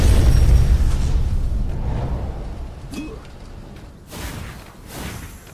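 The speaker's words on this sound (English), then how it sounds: "Crap, explosions everywhere." Explosions go off in the game Stories: The Path of Destinies, starting with a heavy, loud, low rumble that fades. A couple of shorter bursts follow toward the end.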